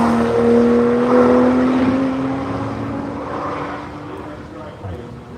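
An HP Tuners Supra race car runs on the track at Hedge Hollow during the One Lap of America event, with a loud, sustained engine drone that slowly falls in pitch as it passes. An announcer talks over it.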